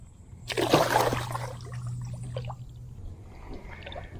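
A caught fish released back into the water from a Gheenoe during Florida saltwater fishing, a close splash around the half-second mark followed by softer sloshing and dribbling water that fades away.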